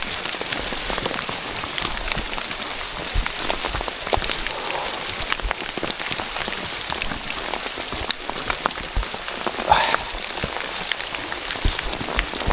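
Rain pattering steadily and densely on a surface during a hike on Mount Lawu via the Jogorogo trail, a continuous close crackling patter with scattered louder drops and no speech.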